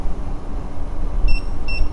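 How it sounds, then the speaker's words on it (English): Two short high beeps from an Extreme Bull Commander electric unicycle warning of low power, heard near the end over steady wind and motor rumble while riding. "some low power beeps"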